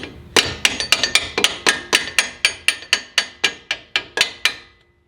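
A lower shock bolt is driven in with a hammer on a 2020 Toyota Tacoma TRD Pro during a suspension lift install, about eighteen quick metallic taps in a steady rhythm, close and ringing, with no talking.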